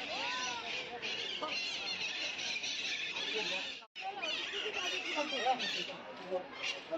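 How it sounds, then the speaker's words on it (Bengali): Parrots in a large zoo aviary cage at Alipore Zoo, Kolkata, squawking and screeching repeatedly at close range with constant shrill calls, with a brief drop in the middle. "পাখিগুলো ডাকছে, জাস্ট দেখো।"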